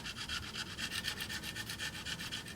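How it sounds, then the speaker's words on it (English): A razor blade held flat scrapes old gasket material off an aluminum automatic transmission pan from a Chrysler PT Cruiser, giving a close, rhythmic series of rasping strokes, about a dozen in steady succession with no talk. "you want to get a razor blade and lay it flat against the surface and just start slowly scraping the stuff off"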